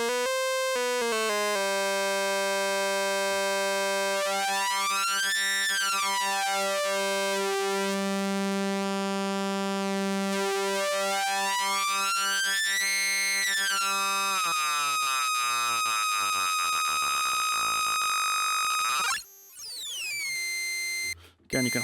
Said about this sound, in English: Oscillator sync. Again, we have a source. So let's go ahead and hear what that sounds like.